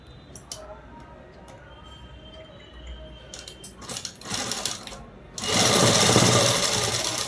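A sewing machine stitches fabric along a chalked marking for a cut top, starting with short stuttering bursts and light ticks, then running into a loud, fast, continuous whir near the end.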